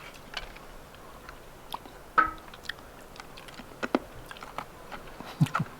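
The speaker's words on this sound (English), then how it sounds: "Now this is going to have a crunch to it." Crunchy Life Savers wintergreen candy from an MRE being chewed, heard as a string of close, crisp crunches and bites set irregularly over a quiet background, with no talking.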